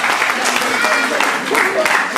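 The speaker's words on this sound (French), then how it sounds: "On a applaudi le pasteur Sostène." An audience applauds pastor Sostène at a church celebration marking ten years of the Cité de Délivrance, a steady, dense patter of clapping lasting the whole stretch, with a voice talking over it.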